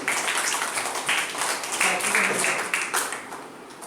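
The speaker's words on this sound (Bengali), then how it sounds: "সবাই পূর্বাশার জন্য একটা হাত তালি।" Several pairs of hands clap together in a classroom for a student, a busy, steady patter of claps close by that holds for a few seconds and eases at the end.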